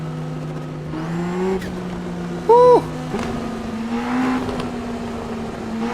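A turbocharged race car engine in the iRacing sim drones with steady tones that rise and shift through the gears, loud and close, with one brief excited shout over it.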